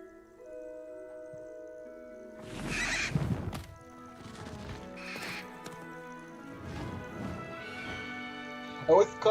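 The hippogriff Highwing in the video game Hogwarts Legacy whinnying, several drawn-out neighs and snorts with a stamp of hooves over soft background music, spaced through the scene.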